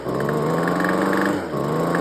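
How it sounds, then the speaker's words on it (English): A two-stroke engine with a busted piston runs continuously up close with a loud, rough, pulsing knock throughout, dipping briefly before resuming. "I want to show you guys what the sound of engine knock is"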